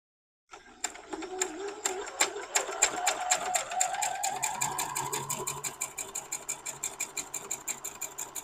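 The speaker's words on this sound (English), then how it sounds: "now we're going to do this seam" A sewing machine sews a seam on a quilt block, its stitching chatter starting abruptly, speeding up, then slowing into evenly spaced clicks near the end, with a soft voice briefly underneath.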